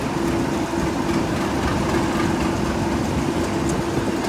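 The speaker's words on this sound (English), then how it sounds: "about to depart will be the charter train" Charter train hauled by class 37 diesel locomotives departing in Devon, a steady loud diesel engine rumble with a sustained tonal drone, continuous and close throughout without speech.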